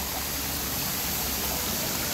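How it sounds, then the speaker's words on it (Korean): Continuous rushing flow of a stream beside a traditional house with old pine trees, a dense, even wash of water sound held steady from start to finish, with no voices. "물 흐르는 소리가 가장 마음을 안정되게 만들어준대요"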